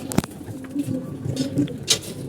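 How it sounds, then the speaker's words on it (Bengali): Soft, low cooing of molting pigeons repeats under a light background hum, with a couple of brief sharp clicks, close and fairly quiet. "এটা আমাদের কবুতরগুলো আপনি দেখতে পাচ্ছেন"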